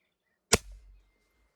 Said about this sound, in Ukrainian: Ще роблю постріл.